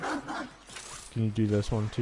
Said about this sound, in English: Ooh, my dog.